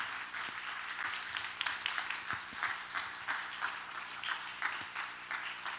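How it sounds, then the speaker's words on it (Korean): A church audience applauds to welcome a pastor coming up to give a lecture. The applause is steady and continuous, heard from a moderate distance with a soft, even crowd texture. "우리 강사님 나오실 때 큰 박수로 맞이하도록 하겠습니다."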